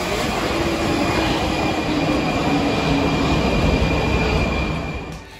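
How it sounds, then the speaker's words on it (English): A Prague metro train roars along deep underground, a loud steady rumble with screeching wheels, easing off slightly at the very end. "We took the subway to the center of town"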